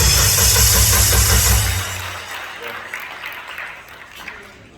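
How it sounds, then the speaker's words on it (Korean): Audience applause at a Korean women pastors' rally welcoming a doctor to the stage, a broad crackling wash that starts under a low steady hum and then thins and fades, with voices mixed in. "박사님 다시 한번 박수로 환영하겠습니다"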